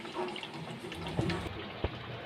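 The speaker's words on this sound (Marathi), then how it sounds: "आता त्यामध्ये मी पाणी घालत आहे गरम केलेलं पाणी" Heated water is poured into a pot of chicken, a soft trickling splash with a couple of small clinks, faint and close.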